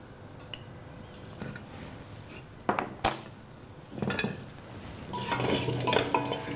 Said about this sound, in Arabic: بدي ضل قلي البصله ليصير عندها اللون الاشقر